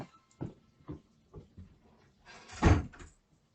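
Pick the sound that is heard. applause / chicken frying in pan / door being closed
door being closed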